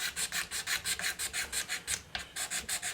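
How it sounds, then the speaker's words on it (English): A Stanley knife used as a scraper rasps steadily back and forth over a guitar fingerboard, cleaning off built-up gunk in a brisk, even rhythm of about a dozen close, loud strokes. "With a Stanley knife I use it basically as a scraper."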